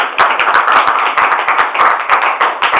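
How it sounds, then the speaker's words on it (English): Steady, dense clapping from a comedy show audience fills the room, loud and close, with sharp individual claps standing out over the continuous wash of applause. "You guys can clap."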